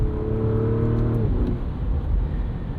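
A 2024 Porsche Cayenne S with a V8 drives along, its engine holding a steady drone that then shifts down in pitch as it eases off, heard from inside with road rumble underneath.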